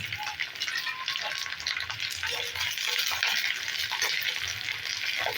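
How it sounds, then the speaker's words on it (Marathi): Ivy gourd (tondli) pieces fry in oil in a kadai for dried bombil masala, giving a dense, continuous close sizzle with faint rattling as the pieces shift, steady in loudness throughout. "हे आपण तोडली ही एक एक मिनटासाठी आपण फ्राय करून घेऊ"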